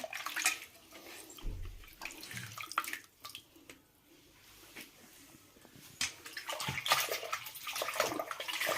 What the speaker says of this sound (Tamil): இப்போது இந்த தண்ணியை ஃபுல்லாக வடிகட்டிடலாம்.